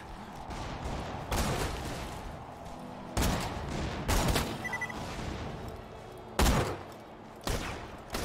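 Gunfire in the Borderlands video game comes as several sharp, loud bursts of shots spaced a second or two apart over a lower background din.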